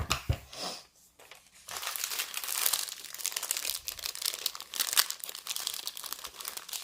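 A paper label is cut in two, giving a steady run of close, crisp crinkling and snipping for several seconds with no talking.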